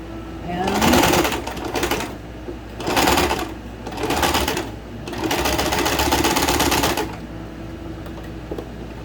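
Sewing machine stitching the cuff of a long-sleeve shirt sleeve, running in four close, loud bursts of rapid stitching separated by short pauses.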